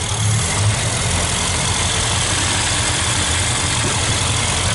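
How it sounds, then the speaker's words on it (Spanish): A 1978 Seat 131 L first-series saloon settles into a steady idle right after starting, its engine humming close and even throughout with no voices over it. "Suena perfecto, ¿eh? Un ralentí perfecto."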